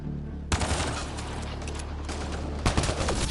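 Rapid bursts of gunfire from a firefight in the sci-fi shooter Mass Effect: Andromeda, a loud dense fusillade breaking in after a brief lead-in and carried on over a steady rumble, with a fresh heavier volley near the end.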